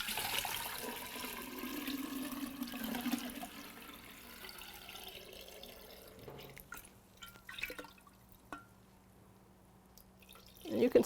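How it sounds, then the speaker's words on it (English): Liquid poured through a sprout bag held by a rubber band over a jar, a soft gurgling splash that fades into scattered drips, with a louder splash at the end. "I'm putting a rubber band in my sprout bag over this jar, and then I'm just going to pour that in."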